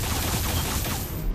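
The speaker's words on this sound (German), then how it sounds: "weil ich nicht weiß, wo die Schüsse herkommen" Sustained rapid gunfire from the sci-fi shooter video game Alien Rage, a dense, loud fusillade of overlapping shots running steadily throughout without pause.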